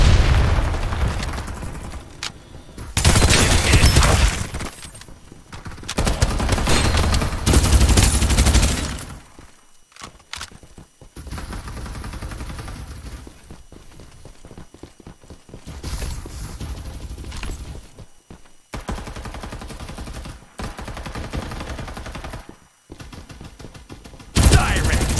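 Weapon fire from the video game Farlight 84, with long loud sustained bursts and heavy booms alternating with quieter stretches across the whole span, a game voice speaking briefly over it.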